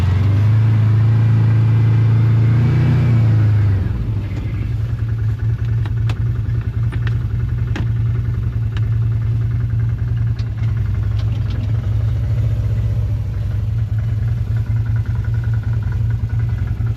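A Can-Am Commander 1000 XT side-by-side running its engine, a loud, steady low rumble that drops from a slightly revved note to an even idle after a few seconds and holds close and continuous, with no talking.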